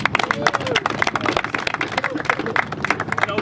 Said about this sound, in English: So give a round of applause for everyone being here today